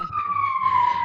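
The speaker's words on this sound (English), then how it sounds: "We just we're on the main ambulance line here, so gonna hear that go by." An ambulance siren sounds loud and close as it passes along a main ambulance route, its steady wailing tone slowly dropping in pitch over about a second.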